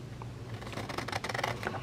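Printed book-page paper being trimmed into journal cards, a close, quiet run of rapid crisp cutting and rustling strokes that speeds up toward the end, with no talk.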